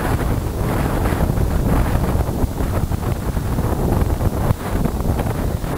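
Strong, steady wind buffets the microphone during a criterium bicycle race, a loud continuous roar with gusty rumble and no speech.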